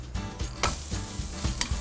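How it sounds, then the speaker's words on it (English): Focaccia sizzles and crackles steadily in a hot pan, close and fairly loud, with a few sharper pops. "Place your bread in a really hot pan and hear the sizzle."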